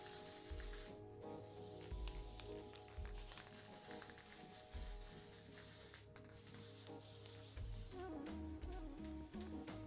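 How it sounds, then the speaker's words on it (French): Gold food spray hisses from a can onto a cake in a few short bursts, a soft airy spray close to the listener over a faint steady background. "je peux sprayer un petit gold spray."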